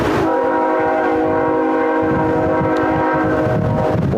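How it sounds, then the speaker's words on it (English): Train horn sounding as a train passes near a baseball field in Milbank during an American Legion game: a loud, sustained multi-tone horn blast runs for about four seconds over low rumbling rail noise. "As the 9:20 train comes through here at Milbank."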